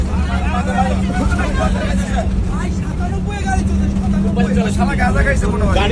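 A road vehicle is driving, heard from inside the cabin: a low, constant engine and road hum runs beneath continuous talk and chatter from several passengers.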